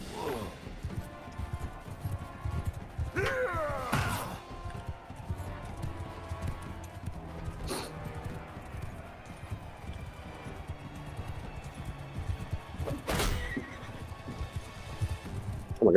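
Horses in a video game gallop with steady clip-clopping hooves while several sharp neighs and whinnies break through, with rumbling game noise underneath throughout.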